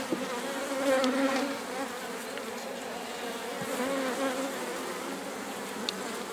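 Honey bees buzz loudly and close around a hive on a steppe apiary as frames are lifted one by one for inspection, a dense steady hum with occasional louder swells of passing bees.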